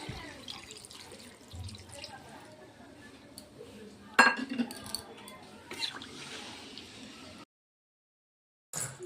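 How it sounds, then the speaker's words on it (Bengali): Water is poured into chicken curry that has been frying for some time, a trickling splash with light clinks of a vessel against the pot, then sudden silence near the end. "তো এবার আমি জল দিয়ে দেবো।"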